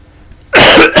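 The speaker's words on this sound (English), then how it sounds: "and I've got a cough." An old man in the Pillars of the Earth video game coughs: quiet for half a second, then one loud, close, harsh cough burst followed by a shorter second hack.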